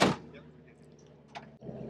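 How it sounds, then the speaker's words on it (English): A door on a 1970 Jeep Jeepster Commando swings shut with one sharp, close slam right at the start, followed by a low engine-like rumble and a faint clack. "We'll close the door."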